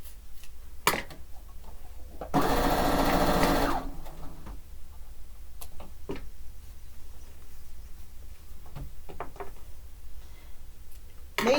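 Sewing machine stitching quilt pieces for a fish-themed quilt, one steady loud burst of rapid stitching lasting about a second and a half, followed by quieter handling clicks and rustles of fabric, no talking.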